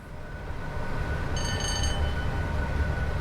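Class 87 electric locomotive running on the West Coast Main Line in a train simulator game, a steady low rumble of running gear and motors with a brief high whine in the middle, continuous and fairly loud throughout.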